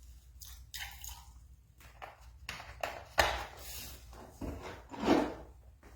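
Wet squishing, dripping and rubbing from loose-leaf spring 2023 sheng tea being rinsed with water, a series of soft irregular splashes and pours, quiet and close.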